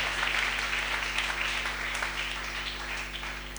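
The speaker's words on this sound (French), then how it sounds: "qu'ils acclament eux-mêmes d'abord" An audience applauding in a church, dense, steady clapping, strongest at the start and easing slightly toward the end, over a low constant hum.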